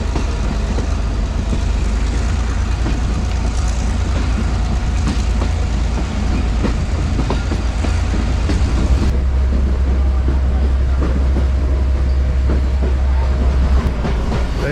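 The Mohenjo-Daro passenger train running, heard from on board as a loud, continuous rumble with rhythmic clatter of wheels on rails throughout.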